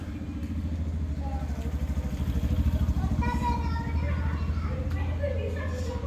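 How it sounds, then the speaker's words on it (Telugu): Motorcycle engine thrums close by with a steady pulsing putter that swells and lingers as the bike goes past on the street, while people talk over it. "ఆగండి గైస్, బైక్ వెళ్తుంది."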